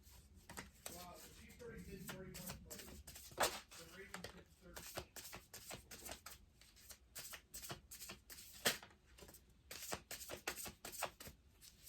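A tarot deck shuffled and flipped by hand, up close: quick papery riffles and card slaps in irregular bursts, with a voice heard faintly at times.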